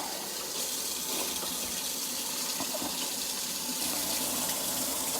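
Water from a tap runs steadily and fairly loudly while a gloved hand is washed beneath it, with faint splashing and shifting flow and no talk.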